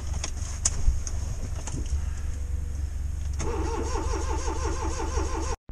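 A Smart car engine cranks on a jump start, a steady grinding churn that catches into a running engine with a wavering rhythmic tone, then cuts off abruptly near the end.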